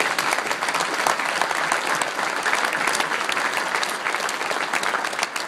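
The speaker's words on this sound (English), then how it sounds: "my board of directors, a round of applause." A round of applause at a Wisconsin Restaurant Association evening event honoring the board of directors, a steady, dense wash of clapping from a large crowd filling the room, loud and continuous throughout.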